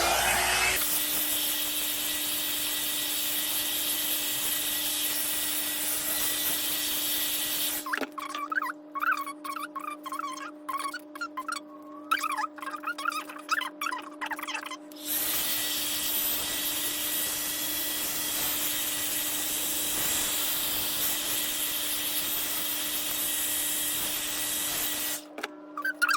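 A hair dryer on its high setting blows a loud, steady, breathy roar with a faint hum, cuts out for several seconds, then starts again and runs on.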